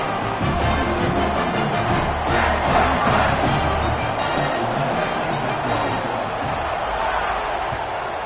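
A dense football stadium crowd roars and cheers steadily throughout, a loud, sustained wash of many voices with a brief swell near the middle, at a college game between Ole Miss and Texas Tech after a special-teams score.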